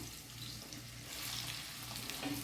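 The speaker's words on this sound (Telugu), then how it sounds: "ఇవి ఫ్రాన్స్ వేయించాను కదా, ఆయిల్లోనే వేసేస్తున్నాను. ఉల్లిపాయలు వేసేస్తున్నాను." Onions frying in oil left over from fried prawns for a prawn curry, a soft continuous sizzle with light stirring, quiet and close, with no voices.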